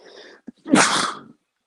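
A single close, loud sneeze from a person bursts out after a brief stretch of soft breathing, then quiet follows.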